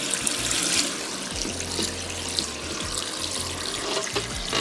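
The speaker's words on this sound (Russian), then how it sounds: "я сюда добавлю воды" Steady rushing stream of water pouring into a pot of cherries for cherry syrup, continuous and close, with a slight gurgling change in tone as it fills.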